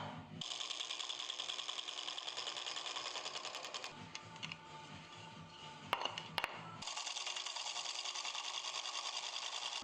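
Wood lathe spinning glued segmented wood pieces held in jaws while a tool flattens their surfaces, a steady loud whirring drone with a brief quieter dip and a few sharp taps midway.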